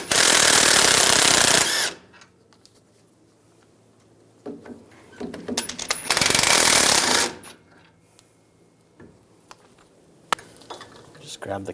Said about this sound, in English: Use a 21mm socket. Take the two bolts out.